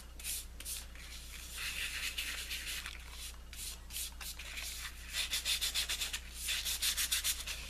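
Fingers rub iridescent, holographic Arteza glitter onto tacky adhesive tape, a close, faint, steady scratchy swishing in quick repeated strokes that grows more rhythmic toward the end.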